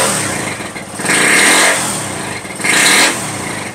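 Classic Suzuki motorcycle engine revved with the throttle in two surges, climbing and falling back to a rough idle, close and loud with a clattery mechanical edge.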